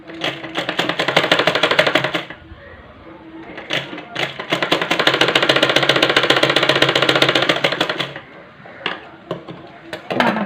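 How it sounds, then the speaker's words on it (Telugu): A sewing machine stitches the round neckline of a boutique-style dress in close, loud bursts of rapid stitching broken by short pauses while the fabric is turned. "టర్నింగ్ తిప్పేటప్పుడల్లా సూది ఇలా దించుకొని ఇలా అప్పుడు మీకు నీట్గా నెక్ అనేది రౌండ్ అనేది బాగా తిరుగుతుంది"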